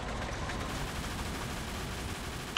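Gunfire in the Vietcong 2 video game as a dense, continuous rattle of shots filling the whole moment at steady loudness, with no voices over it.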